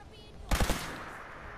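Heavy-recoil gun firing in Fallout 4 on PS4: a quick burst of three loud, booming shots close together, followed by a ringing, fading tail.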